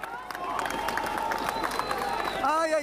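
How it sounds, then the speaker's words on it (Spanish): A crowd at a collapsed building rescue shouts and claps as rescuers bring out a child, giving a short burst of loud, excited voices with patters of applause and a rising cry at the end. "Gritos y aplausos acompañaron a los rescatistas"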